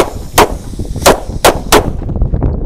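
A pack of firecrackers set off all at once outdoors, four sharp loud bangs in quick succession, fairly close, followed by quieter crackling and rustle as the burst fades.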